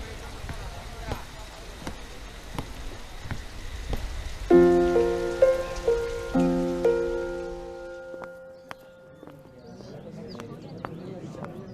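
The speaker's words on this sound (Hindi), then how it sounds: "बारिश हो रही है भाई साहब, आप भी जल्दी निकल लीजिएगा" Steady rain patters on surfaces throughout a Hindi film scene, heard under people talking and a few sustained musical tones, then carries on more softly near the end.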